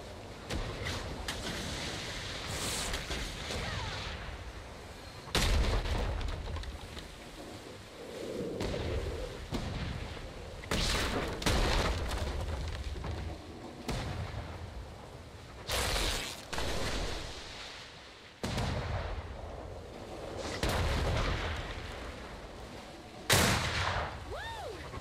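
Cannon fire in a naval pirate battle video game: repeated loud booming shots in irregular bursts over a continuous ocean-like wash, with occasional voices in the background.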